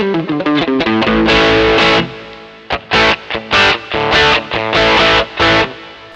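Electric guitar lead tone played through a JOYO DC-15S battery-powered amp with looper, heavily distorted with effects, in loud sustained phrases and held notes separated by short pauses.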